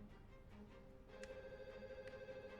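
A telephone rings faintly in the video game Dead to Rights: Retribution, a soft, distant tonal ring with a couple of brief bursts over a low background hum, with no voices.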